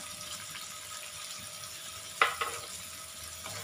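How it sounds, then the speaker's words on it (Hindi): Capsicum (bell pepper) being roasted in a pan for a Maharashtrian zunka, a soft steady sizzle with a couple of brief stirring scrapes and clinks midway, faint and close with no talking. "इसे शिमला मिर्च को सिर्फ दो तीन मिनट के लिए भुनना है"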